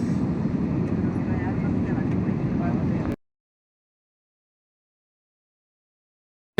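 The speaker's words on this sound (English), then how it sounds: "finally we are boarding Indigo flight to Vijayawada" Steady, loud broadband roar inside an airplane cabin on an Indigo flight to Vijayawada, a continuous engine and air rush that cuts off abruptly partway through, leaving silence.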